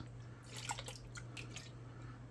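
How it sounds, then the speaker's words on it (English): Worcestershire sauce poured into a minced beef mixture for Salisbury beef burgers, soft close liquid drips and splashes bunched in the middle over a quiet background. "Now let's throw in some Worcestershire sauce."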